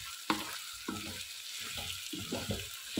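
Mutton aloo keema with halved green chillies fries in oil and is stirred, a spoon scraping through the sizzling mixture in several close, rhythmic strokes, with no talking.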